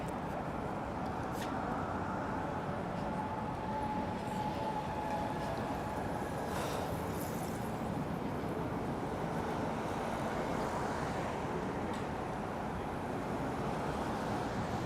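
New York City train rumbling steadily through Manhattan, a continuous broadband roar with faint squeals and clanks, fairly quiet and unbroken throughout.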